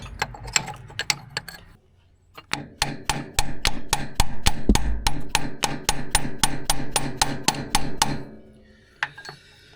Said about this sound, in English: If I hammer this way